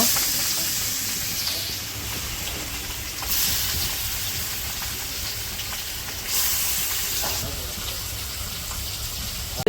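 Rohu fish pieces frying in hot oil in a kadai, village style, make a steady, fairly soft hiss and sizzle with a couple of brief louder surges.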